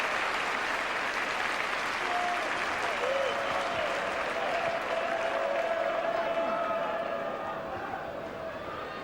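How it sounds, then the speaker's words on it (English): Football crowd at the Den, Millwall's ground, applauding steadily at half-time in a 1992 match against Wolves, a broad distant roar of clapping with a faint whistle-like tone and murmurs, easing slightly toward the end. "a generous round of applause from the faithful here at the Den"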